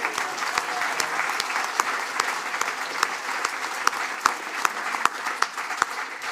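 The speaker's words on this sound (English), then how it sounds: "How about a clap anyway?" A hall full of people claps steadily at a Massey University graduation ceremony in Wellington, with a sustained, even patter of many hands and a few sharper individual claps standing out over it.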